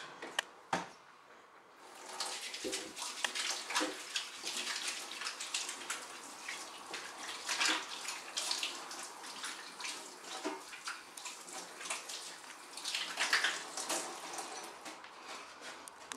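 Water runs from a tap with splashing and rubbing as hands are washed, close by, preceded by a couple of brief knocks.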